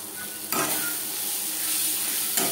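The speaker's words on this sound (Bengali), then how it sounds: "মশলার সাথে লবণ হলুদ বেশ ভালো করে মিক্স করে দেব।" Turmeric, salt and spices stirred in a frying pan for a Bengali tomato fish curry, a steady close sizzle with scraping stirs at the start and end, no voices.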